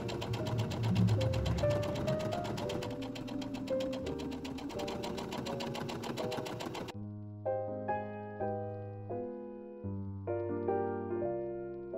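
A sewing machine stitches together the crotch seam of bloomer leg pieces, a steady rapid whir for about seven seconds under background music, then the motor stops and only the music continues.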